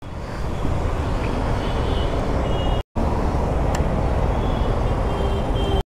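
A 2024 Yezdi Adventure motorcycle on a test ride, a loud continuous engine and road rumble with rushing wind, steady throughout apart from a brief dropout.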